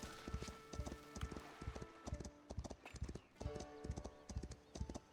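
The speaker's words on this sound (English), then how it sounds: "Oh, I hear a horse. A courier is approaching." Steady rhythmic clip-clop of a courier's horse hooves trotting closer in the medieval city-building game Foundation, a continuous pattern of paired hoofbeats with a faint tonal hum beneath, growing slightly fuller over time.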